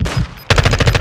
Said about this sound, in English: Go, they're shooting us.